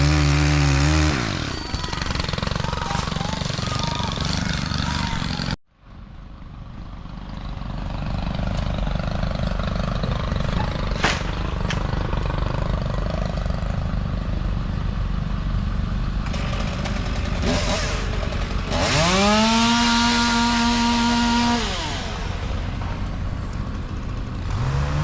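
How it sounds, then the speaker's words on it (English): A chainsaw runs loud and close while cutting down dead trees near a school, its engine droning steadily for long stretches and revving up and down toward the end, with a sharp cutoff early on. "We got a chainsaw here that we're having problems with"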